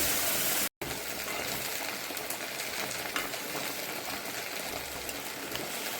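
A little water goes into a cooking pot already holding mustard oil, setting off a steady close hiss and bubbling sizzle with a brief break near the start, then continuous gushing, frying noise.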